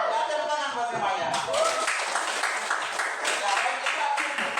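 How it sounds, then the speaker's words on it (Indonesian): A class of pupils claps together in a classroom, a short burst of scattered applause with voices chattering over it. "tepuk tangan buat semuanya"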